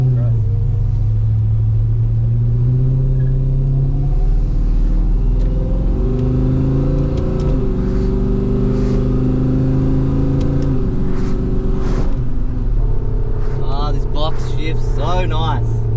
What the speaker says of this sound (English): That noise is the goddamn diff.